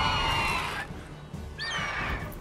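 Horse neighing in The Witcher 3 game, a whinny that rises and falls, then a second shorter neigh after a brief lull, over steady background game noise.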